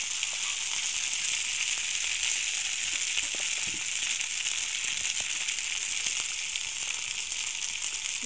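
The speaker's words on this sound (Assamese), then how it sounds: "পাস্তাখিনি অলপ লৰাই দিছোঁ।" Pasta sizzling and being stirred in a hot frying pan, a steady loud frying hiss throughout with faint scraping stirs underneath; no speech.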